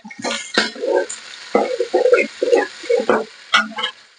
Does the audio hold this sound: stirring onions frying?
yes